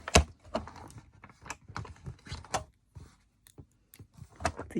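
Small scissors snipping paper during envelope mini-album crafting, a quick series of crisp, close clicks and snips spaced irregularly across the span.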